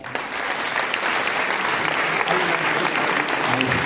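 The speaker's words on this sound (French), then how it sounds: "Sous vos applaudissements" Audience at a festival opening ceremony applauds as a governor is called onstage, a loud, unbroken roar of many clapping hands with some crowd voices underneath.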